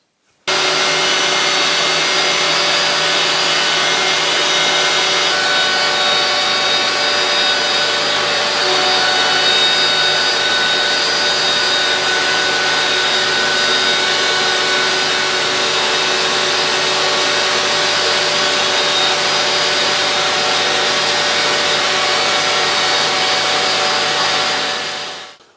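A Dewalt router fitted as the spindle of an X-Carve CNC machine runs steadily, a loud continuous high whine with strong tonal hum that holds constant for about 25 seconds before cutting off at the end, with no talk.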